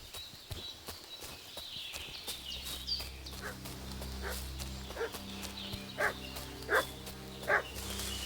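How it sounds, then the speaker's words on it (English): A dog barks and fusses in the medieval village setting of the video game Kingdom Come: Deliverance II, several sharp barks rising toward the end over steady ambient hum and occasional hoof clops. "What's that dog making such a fuss about?"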